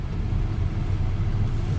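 A 2019 VW Passat SE R-Line rolls through a U-turn, its cabin filled with a steady low engine and road rumble that stays even and fairly loud, with no voices.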